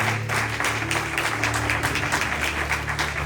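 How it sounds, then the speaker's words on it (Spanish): A church congregation claps and applauds together in a dense, continuous burst of hand claps. "Dale palmas a Dios"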